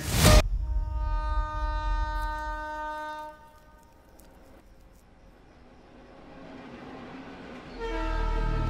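A train horn blares with a loud sustained chord that fades as the train passes, leaving a low rumble of rolling wheels. A second horn blast starts near the end.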